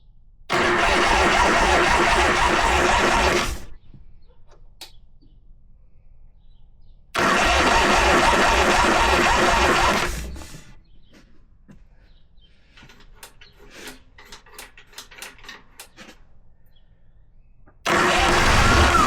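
An Evo engine on a chopper motorcycle, flooded with the choke off, cranks loudly in three long bursts of starter whirring separated by quiet gaps with faint clicks and rattles.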